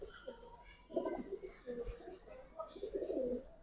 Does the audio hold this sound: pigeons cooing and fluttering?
yes